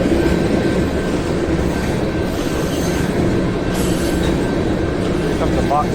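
A train with box cars rolls past on a railroad track laid on chunky, irregular rock ballast, a loud steady rumble filling the whole stretch, with a thin wheel squeal and faint clicking near the end.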